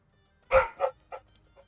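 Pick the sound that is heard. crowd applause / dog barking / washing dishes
dog barking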